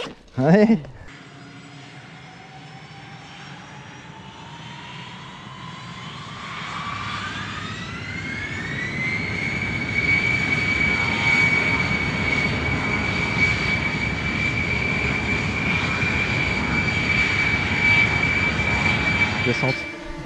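A drone in flight, its steady motor whine rising in pitch as it speeds up and then holding a sustained buzzing drone, loud and close, with wind-like rumble underneath.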